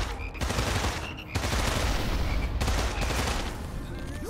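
Sustained automatic gunfire in the shooter game Immortal Redneck, loud and nearly continuous rattling bursts with brief pauses, aimed at the player.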